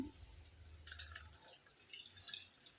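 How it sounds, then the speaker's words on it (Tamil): Freshly ground coconut mixed with water is squeezed through a kitchen strainer for coconut milk, giving soft close dripping and trickling liquid, with a brief louder splash of pouring early on and quieter drips after. "ஒரு வடிகட்டி வச்சு நல்லா வடிகட்டி பிழிஞ்சு எடுத்துக்கிட்டோம்னா தேங்காய் பால் ரெடி ஆகிடும்"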